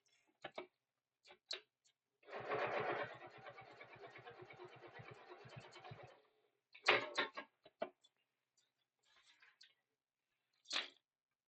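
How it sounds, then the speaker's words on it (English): A sewing machine stitches a bag seam at stitch length 5 with reverse stitching, a rapid mechanical run of needle clatter for about four seconds, then scattered clicks and handling taps in a quiet room. "I will reverse my stitch at the start and at the end just so it holds everything into place"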